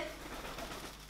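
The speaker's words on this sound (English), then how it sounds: "everyone's favorite bird" A pet pigeon or dove coos softly and steadily, close by, over a constant background hum.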